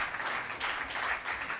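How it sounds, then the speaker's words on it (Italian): An audience at an agroforestry colloquium applauds in approval, a steady, fairly soft wash of clapping throughout. "penso un applauso di approvazione per il lavoro"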